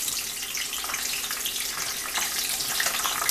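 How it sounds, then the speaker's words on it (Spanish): Onion, garlic and chile pieces fry in hot oil with a steady, dense crackling sizzle, close and even, with no voices over it. "voy a empezar a poner a dorar la cebolla y el ajo"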